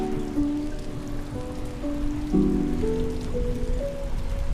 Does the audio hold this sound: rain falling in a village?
yes